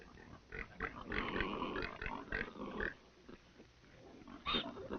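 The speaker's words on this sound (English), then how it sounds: "Pigs are bred not only for their meat, but also for their manure, which is the main source of fertilizer." Pigs grunting on a farm in China, a run of close, rough grunts and snorts in bursts, fading to quieter snuffling before one last louder grunt.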